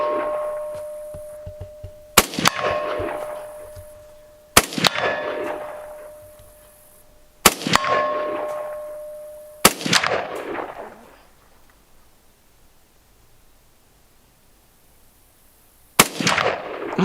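Five sharp rifle shots from a Yugo SKS M59/66A1, each followed by the ringing clang of a square steel gong at 100 yards on an outdoor range, spaced a few seconds apart with a long quiet gap before the last.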